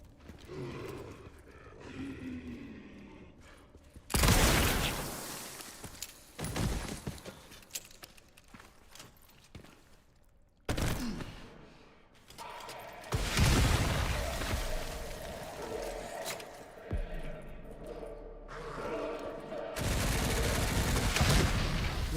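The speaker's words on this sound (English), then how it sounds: "You are not shooting with that shit." Resident Evil Requiem gameplay with loud bursts of gunfire and blasts in clusters, separated by quieter stretches of rumbling game ambience, no talking.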